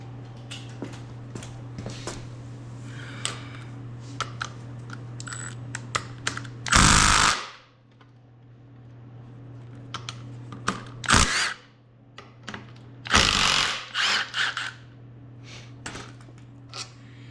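Hand tools work on the front brake of a 2016 Honda CRF 230F: quiet scattered metallic clicks and ratchet ticks, broken by a few short louder bursts of noise, with no speech.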